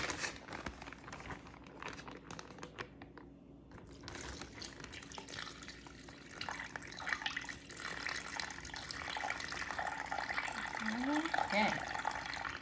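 Water is poured into a plastic baggie held by hand during a children's science activity, a soft trickling splash building gradually over about twelve seconds while voices talk nearby.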